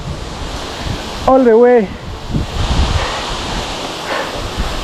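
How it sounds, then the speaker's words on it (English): Breeze gusting at a slow-flowing waterfall, with broadband wind rush buffeting the microphone over a steady watery roar, while a voice speaks briefly. "Ooh, the breeze."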